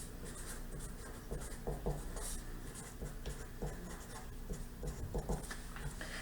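Pen or pencil scratching steadily across paper while drawing a line on a contoured face mask pattern, close and continuous, with faint background voice sounds.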